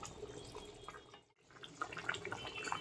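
Hot water from a pot of boiled potatoes is poured off into a sink, giving a soft, continuous splashing rush that breaks briefly and then resumes with light spattering.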